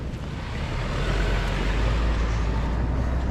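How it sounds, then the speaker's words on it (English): Road traffic rushes past on a highway through the West MacDonnell Ranges in central Australia at peak hour, a steady broadband roar with heavy low rumble and wind buffeting that holds for the full stretch, with no voices. "So we'll just let the traffic go past."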